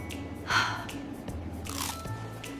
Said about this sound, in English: That crunch on the outside and soft, fluffy bite on the inside.